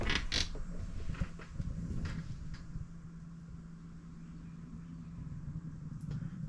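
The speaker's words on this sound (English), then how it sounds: "The door is even on a hinge." A hinged door on a camper swings, producing a few creaks and knocks near the start over a low, steady background hum, then quieter rumbling.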